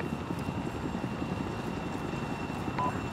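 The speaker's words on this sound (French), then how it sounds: "monte dans les Chinook, tenez-vous prêts." A Chinook helicopter in the video game Arma 3 drones with a steady, dense rotor chop and engine rumble, loud and close throughout, with no speech over it.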